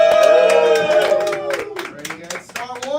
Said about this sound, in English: Give it a cheer, the point goes to Star Trek.